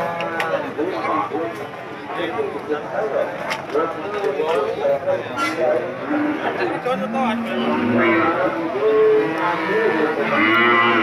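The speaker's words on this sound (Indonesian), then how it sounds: "sapi-sapi yang sudah laku" Cattle at the Pasar Pon livestock market moo repeatedly, several low drawn-out calls overlapping amid crowd noise, with people talking throughout.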